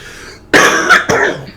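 A person recovering from a cold coughs twice in quick succession, loud and close, with a scratchy, throat-clearing quality after a moment of quiet.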